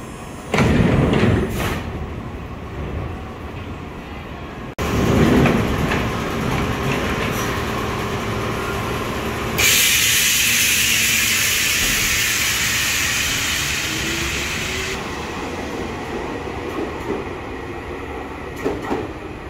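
KRL Commuter Line electric trains at Citayam station give a loud, steady rumble and hiss broken by abrupt shifts and occasional thuds, as several passes follow one another with no talking.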